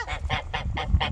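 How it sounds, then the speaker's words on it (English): Chinese goose honking excitedly, five loud, close, evenly spaced nasal honks in quick succession. "The China goose is really having a good old time."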